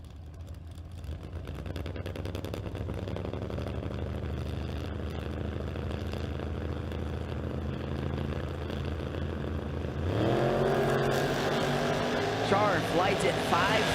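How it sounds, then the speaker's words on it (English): Drag racing car engines idle with a low, steady drone at burnouts, then surge into a loud, rising rev partway through, with a track announcer talking over the din. "Consistently the most impressive burnouts we've seen this weekend from Combs"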